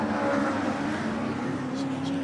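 Race cars of the Mag and Turbo super cup drive around the track, a steady, moderately distant engine drone with a held pitch, running beneath continuous commentary.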